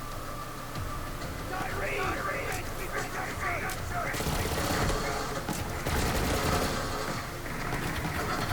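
Repeated gunfire from the KYB's Worth legendary weapon in Borderlands 3, sustained bursts of shots with chirping effects and game sounds, while a voice talks over the action.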